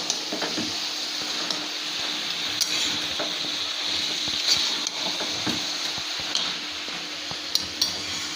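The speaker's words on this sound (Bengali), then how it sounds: "এবার এটাকে আমি খুব ভালো করে কষবো।" Cabbage with fish head sautéing in a pan gives off a steady, close sizzle. Scattered light clinks and scrapes of a stirring utensil against the pan come through throughout.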